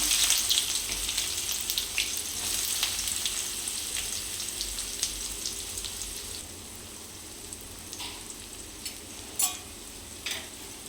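Onion sizzles steadily in hot oil in a pan with mustard seeds, a continuous frying hiss broken by sharp scraping stirs and a few crackles, with no talking.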